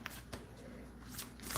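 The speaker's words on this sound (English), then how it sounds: "Okay, and I'm shuffling the cards" Tarot cards shuffled by hand during a live card reading, giving a quiet, brief run of soft papery riffles and taps close by.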